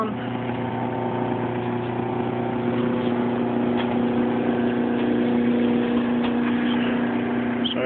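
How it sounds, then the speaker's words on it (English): A Ray Foster 12-inch dental grinder runs steadily in a garage, a smooth, even motor hum with a constant tonal whine and no pauses, fairly loud and close throughout. "This is the Ray Foster dental grinder."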